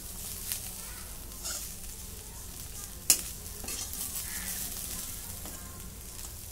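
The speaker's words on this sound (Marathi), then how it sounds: "आता मी याच्यामध्ये कोथिंबीर टाकून घेते. पुन्हा एकदा परतून घेते." Leftover jowar bhakri pieces with fresh coriander are stir-fried in a pan, a steady soft sizzle running throughout with scraping spatula strokes and one sharp metallic clink midway.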